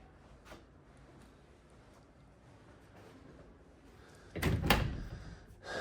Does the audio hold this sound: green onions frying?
no